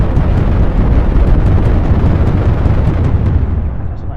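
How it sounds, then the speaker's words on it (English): A bomb goes off in the WorldBox sandbox game as a loud, sustained rumbling roar that holds steady and then slowly fades, with no talking. "I think we should bomb this one."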